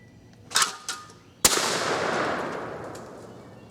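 A Savage 220A shotgun fires a single loud, sharp shot, and a long echo rolls away outdoors afterward. A couple of clicks from handling come before the shot.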